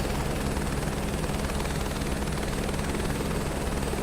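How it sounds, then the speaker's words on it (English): Airbus H125 helicopter in red and blue livery flying in the video game Microsoft Flight Simulator 2024, its steady rotor thump and turbine whine running loud and unbroken throughout. "Flying our beautiful red and blue Airbus H125."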